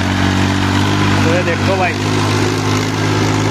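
A small Abhiman mini tractor's engine runs steadily with a constant low idling drone throughout, close to the microphone, while someone talks over it.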